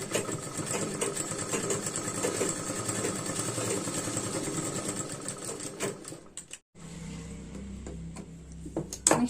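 Domestic sewing machine stitching a blouse along tuck marks, a steady continuous mechanical whir for about six seconds, a brief stop, then stitching resumes at a slower, lower hum.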